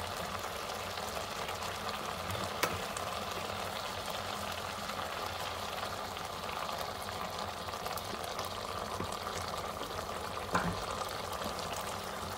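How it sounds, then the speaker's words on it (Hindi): Oil poured in over nearly dried, tender mutton liver (kaleji) in a pan, giving a steady low sizzle and bubbling throughout, with a couple of faint clinks and no voices. "ऑयल ऐड कर देते हैं।"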